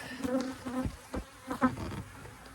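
Agitated honeybees swarm around a disturbed hive, their buzzing close and continuous, with individual bees zipping past in brief louder swells over a steady insect drone.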